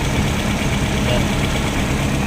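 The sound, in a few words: vehicle engine idling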